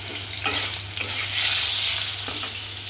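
Spiny gourd and bitter gourd fry together in a pan, a constant close sizzle broken by several scraping stirs of the spatula.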